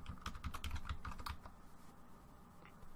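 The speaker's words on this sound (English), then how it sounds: "typing in my password" Someone types a password on a computer keyboard, a rapid run of close, crisp key clicks that thins out and slows toward the end, with no voices.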